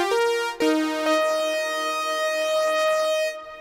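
A Yamaha CS70M synthesizer plays a CS80 Blade Runner-style patch built from two sawtooth waves: a bright, brassy sustained chord that swells in after a short opening note and holds steady, close and alone, before fading.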